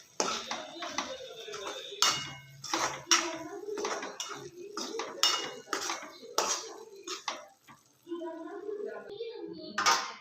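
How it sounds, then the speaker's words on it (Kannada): A spoon repeatedly scrapes and clanks against a metal pan while boiled green chilli curry is stirred, irregular close knocks and rattles with a voice and other speech in the background. "ಚೆನ್ನಾಗಿ ಮಿಕ್ಸ್ ಮಾಡ್ಕೊಳ್ಳೋಣ."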